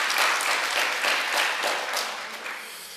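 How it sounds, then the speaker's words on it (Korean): A church congregation applauds its choir during a Korean worship service, a brief burst of dense clapping that peaks early and tapers slightly over three seconds. "성가대가 오늘 하도 은혜가 충만해서 다시 한번 좀 박수 보냈으면 좋겠습니다."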